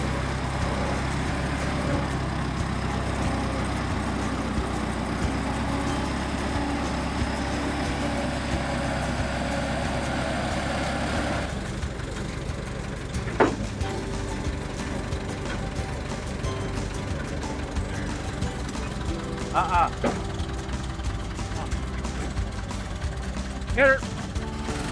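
A 1926 International Model 54 house moving truck engine idles with a low steady rumble, loud and close, then quiets into a fainter idle with a few clanks and knocks while people talk nearby.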